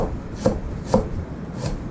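Green onions sliced with a kitchen knife for Korean-style kimchi, with steady, evenly spaced chopping strokes on a board, close and clear over a soft background hiss.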